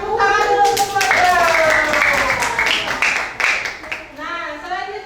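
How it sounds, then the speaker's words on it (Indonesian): A class of children clapping for a pupil named Moza, a short lively burst of hand claps mixed with kids' voices and a teacher speaking over it. "Tepuk tangan dulu untuk Moza"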